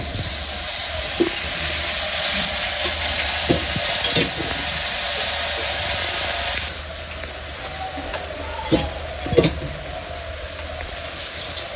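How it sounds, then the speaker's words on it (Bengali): Home-grown Malabar spinach frying with onion in a pan gives a steady hiss, with occasional spatula scrapes and knocks that grow busier toward the end and no talking. "আমি শাক ভাজবো, শাক দিয়ে দিলাম"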